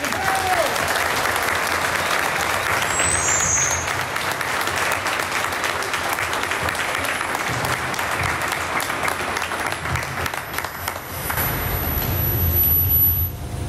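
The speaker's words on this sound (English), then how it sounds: "give one big round of applause to the members here today" Outdoor crowd applause for Jadotville veterans at a Jadotville Day ceremony in Athlone, a long steady wash of clapping with a brief chirp and traffic-like rumble underneath, swelling slightly toward the close.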